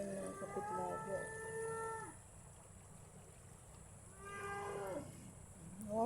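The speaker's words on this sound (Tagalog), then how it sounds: "Wow, ang kalabaw." A water buffalo (kalabaw) by a river gives two long, drawn-out moos with a short gap between them, and a third call begins at the end, all over soft outdoor background noise.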